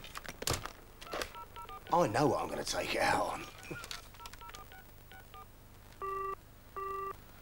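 A landline telephone being dialed: a few scattered tones early on, then two clean, evenly spaced keypad tones near the end, heard after a man's muttered speech and some rustling.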